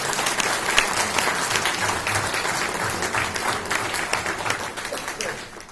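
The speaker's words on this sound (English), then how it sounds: "I think they deserve a round of applause." An audience at the 76th BSI Foundation Day event breaks into sustained, dense applause that continues evenly throughout, filling the hall without pause.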